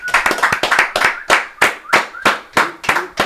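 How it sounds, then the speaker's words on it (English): A close round of loud hand clapping from a small group on a podcast, coming in uneven bursts with short gaps between them. "Can I get a round of applause?"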